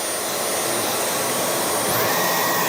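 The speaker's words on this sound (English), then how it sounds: "That's how fast the vacuum goes." A Dyson Outsize cordless vacuum cleaner whirs loudly and steadily up close, its motor pitch rising slightly near the end, with no voices.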